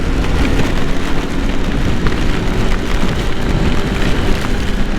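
Heavy rain pours steadily onto a car while it is being driven through deep water, making a dense, continuous wash of noise that stays loud and even from start to finish, with no voices.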